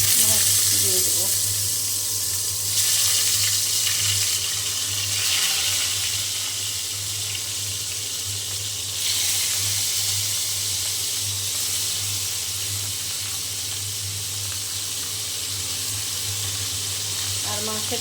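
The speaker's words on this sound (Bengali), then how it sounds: "কারণ তেল গরম হয়ে গিয়েছে, আমি এখন মাছ দিয়ে দেবো।" Pieces of rohu fish sizzling steadily in hot oil, a dense continuous fry hiss close by that swells and settles slightly, with a low hum beneath.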